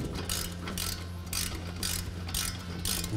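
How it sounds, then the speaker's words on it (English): A ratchet driving a 17mm socket snugs down a bolt on a hub bracket, giving four or five close, crisp bursts of rapid clicking in an even back-and-forth rhythm. "Take our 17mm socket and ratchet."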